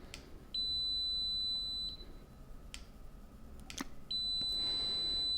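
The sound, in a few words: Kaiweets ST600Y multimeter continuity mode beep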